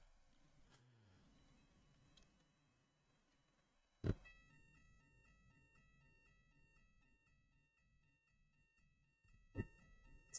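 A fire alarm goes off indoors during a live design session, giving sustained high electronic beeping tones that start abruptly partway through and continue to the end, heard alone without talk.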